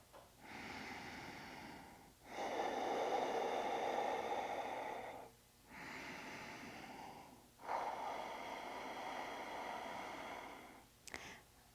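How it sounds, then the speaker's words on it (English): Slow, deep breathing held during a yoga stretch in morning meditation practice: four long airy breaths alternating in and out, close and soft, each lasting a few seconds with short pauses between. "And just take a few breaths here."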